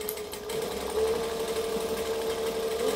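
A sewing machine runs steadily at close range, backstitching a seam on a backpack with a fast, even mechanical whir and no voices.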